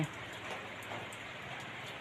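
Rain falls during the first thunderstorm day of the season at a house in Sisaket, Thailand, making a steady, soft patter on surfaces throughout, with no one talking.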